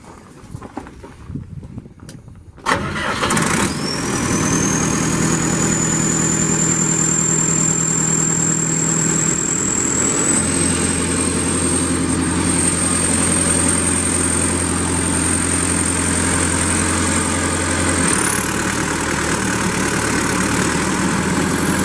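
The turbocharged diesel engine of a 1999 Vermeer BC1250A brush chipper cranks and fires, then settles into a steady, loud idle with a rising turbo whine that climbs in pitch over the long run.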